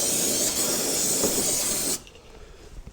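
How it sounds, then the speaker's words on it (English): A spray can hisses steadily onto the frame of a 2002 Polaris Sportsman ATV for about two seconds, close and fairly loud, then cuts off, leaving faint workshop background. "I'm going to spray the frame over there"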